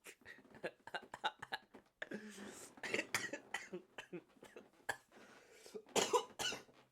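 Repeated harsh coughs come in bursts, some clustered quickly together, mixed with throat clearing and a few vocal sounds in between.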